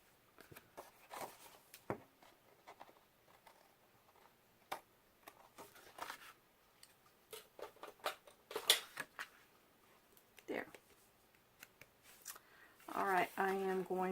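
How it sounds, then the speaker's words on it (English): Scissors snip through paper while a tire shape is cut for a handmade weather-themed card, leaving faint, scattered clicks and crisp cuts, with a few louder bursts near the end. "And I'm going to cut the front end of this tire off."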